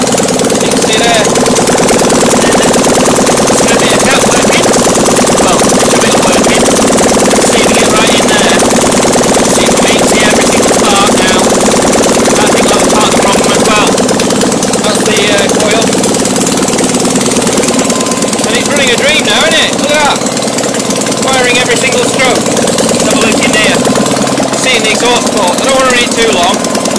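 A Fiat 652cc engine idles after warming up, firing evenly with a loud, steady rumble and mechanical clatter throughout, while someone talks over it.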